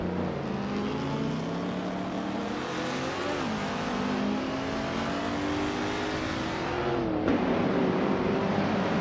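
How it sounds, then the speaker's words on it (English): A 1969 Chevrolet Camaro Z28 in a racing video game roars continuously at high revs, its engine pitch rising and shifting through gear changes, with a sharp drop near the end. "starting on pole in a classic 1969 Chevrolet Camaro Z28"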